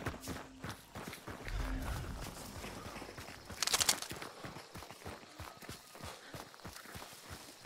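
Horse hooves galloping close by in the video game Hunt: Showdown, a steady run of soft, regular thuds with a brief louder burst partway through.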